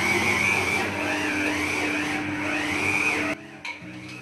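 A new stand mixer kneads chapati dough with a steady loud motor whine and churning hum, running continuously before cutting out near the end with a brief bump.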